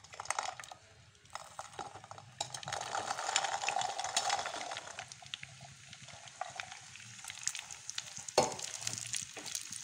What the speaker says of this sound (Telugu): ఇప్పుడు చిక్కుడుకాయలు ఫ్రై చేసుకుందాము తగినంత ఆయిల్ వేయాలి